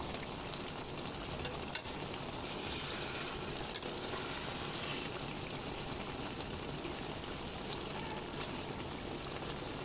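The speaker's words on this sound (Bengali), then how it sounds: "কত সুন্দর তেলটা ফুটছে দেখুন শুধু।" A vegetarian kochur loti (taro stolon) curry bubbles and fries in its released oil in a pot, making a steady, soft sizzle with occasional small pops and no voices.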